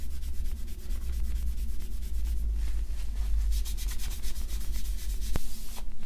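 Aluminum surface of a vintage AEG BH25 rotary hammer being polished, a steady close rubbing and sanding sound with a rapid rhythmic scrubbing over a low motor hum, with a brief sharp knock near the end and no talking.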